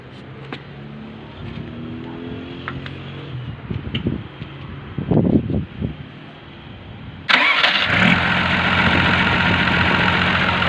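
A homemade DIY backhoe fitted with a handbrake cranks with uneven sputtering knocks, then its engine catches abruptly and settles into a loud, steady, buzzing idle that runs to the end.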